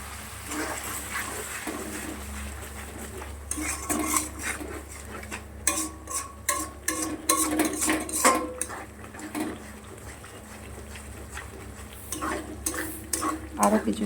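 Spice masala for potato dum sautés in a pot, with repeated metal clinks and scrapes of a spoon stirring against the pan over a soft sizzle, growing busier midway; a voice talks faintly.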